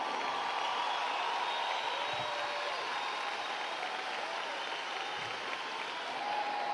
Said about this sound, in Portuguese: Aplaude bem forte!